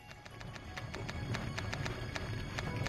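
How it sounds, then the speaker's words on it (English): Horse carriage hooves in the retro-style kart racing game Nightmare Kart, a steady quick clip-clop rhythm of sharp hoof taps repeating evenly over a low rumbling engine-like background. "Horse's carriage."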